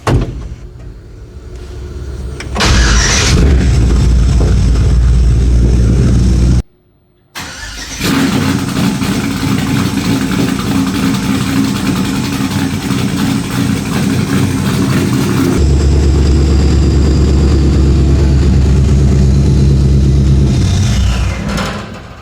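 A 1951 Chevy truck on a 2000 S10 frame with a 6.0 V8, 3-inch dual exhaust and Spintech mufflers cranks, catches after a brief pause, then settles into a loud, deep, lumpy idle.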